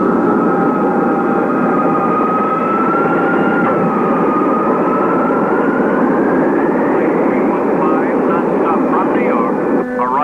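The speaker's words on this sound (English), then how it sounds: "Oh, that is his plane arriving now." A plane arriving from New York drones steadily with a loud continuous engine whine and a slowly shifting tone, as a voice speaks over it.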